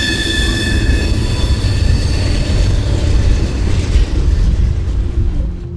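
A train rolls on worn, corroding rails in Mexico, with a loud, close, continuous rumble of wheels and a steady metallic squeal riding above it the whole time.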